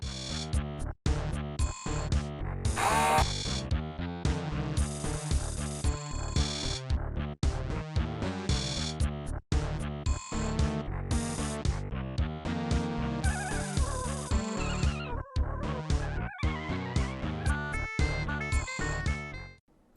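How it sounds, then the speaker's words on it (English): Synthesized MIDI soundtrack from the 1994 game System Shock played on a modern computer, a busy, loud, buzzy electronic arrangement with dense repeating notes and steady rhythmic pulses throughout. "this is what the game sounds like on a modern computer"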